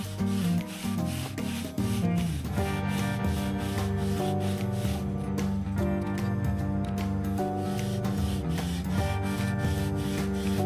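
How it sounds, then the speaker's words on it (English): Wing of a Piper J3 Cub hand-sanded outdoors: loud, continuous back-and-forth rasping strokes in a steady rhythm, close up, with no talking. "take a little bit of sanding."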